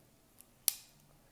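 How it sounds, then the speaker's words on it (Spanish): The small scissors on a Victorinox Tinker Deluxe pocket knife make one faint tick, then a single crisp snip close by in a quiet room. "También tenemos unas tijeras"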